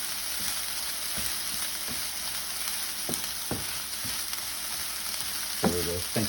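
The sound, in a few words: pickled jalapeno peppers frying in a pan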